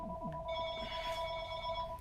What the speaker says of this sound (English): have the phone ring in the middle of recording